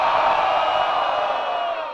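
A crowd at a Brazilian rap battle, Batalha da Aldeia, yells and cheers together in a loud, sustained roar that slowly fades over two seconds.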